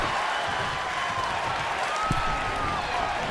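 A wrestling arena crowd in the WWE 2K23 video game roars in a constant, dense wash of cheering and applause at a War Games match, with a sharp thump partway through.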